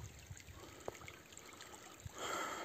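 Snowmelt water trickling and gurgling along a small spring stream in Altai Krai, faint and close, with a few soft splashes and a slightly louder rush toward the end.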